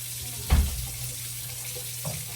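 Water runs from a kitchen tap into a sink, a steady low gush with a couple of soft knocks near the start and end, and no talking.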